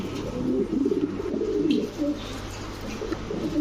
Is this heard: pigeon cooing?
yes